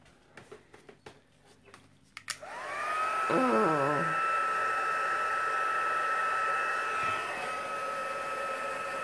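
A heat tool used to set craft paint clicks on and blows with a steady loud whooshing hiss that starts sharply after a few light handling taps and holds constant to the end.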